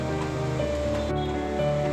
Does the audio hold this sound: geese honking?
no